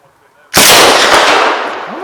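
A Swedish K m/45 submachine gun fires one short, very loud close burst that blends into a single blast and then rings off.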